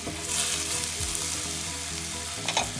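Carrots and red bell peppers sizzle steadily in a pan for a vegetable soup, a close, continuous frying hiss with faint stirring scrapes and low bumps of the vegetables shifting.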